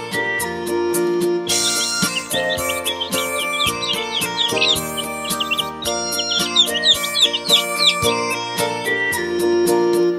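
Small cartoon birds chirp and tweet loudly over a bright, steady nursery rhyme backing tune, with rapid high twitters repeating throughout.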